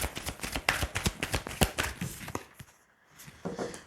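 Tarot cards get shuffled by hand in a run of quick, crisp riffling flicks and taps, close and fairly soft. The shuffling breaks off briefly near the end, then one more flick follows.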